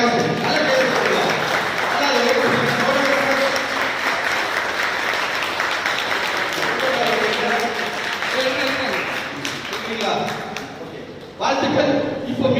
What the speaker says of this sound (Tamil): அனைவரும் நல்ல ஒரு பலத்த கரகோஷம், நல்ல கைதட்டலாம்.